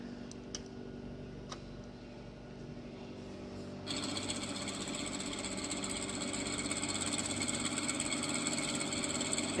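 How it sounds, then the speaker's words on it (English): A recording of a Pratt & Whitney R1340 Wasp radial aircraft engine, the type that powered a Lockheed Vega, plays through a speaker, rising suddenly from a faint ticking idle into a steady, loud mechanical drone. "engine, the R1340 Wasp, which powered Amelia's Lockheed Vega"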